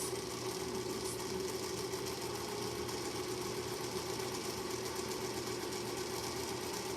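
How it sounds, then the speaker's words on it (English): A 1934 School Bell sewing machine runs steadily at a quiet level, its continuous mechanical whir and rapid stitching rhythm holding constant throughout with no talking. "I love the way this machine sews."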